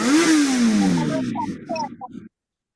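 A motorcycle engine revs up sharply and then fades, with brief voices at the end before silence.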